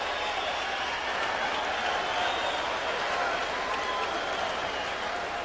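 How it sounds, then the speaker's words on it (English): A boxing arena crowd roars in a continuous, dense wash of cheering and applause, steady and loud throughout with no distinct pauses. "And he gets the crowd going."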